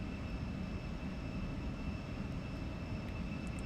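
Jet engines of an Embraer E175 in the X-Plane 12 flight simulator, a loud, steady, broad roar with a faint high whine running through it, heard alone.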